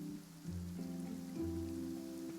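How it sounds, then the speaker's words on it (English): Steady rain falls in the video game Genshin Impact, a soft continuous patter heard alone under sustained tonal background music, with no voices. "It's raining. You're right."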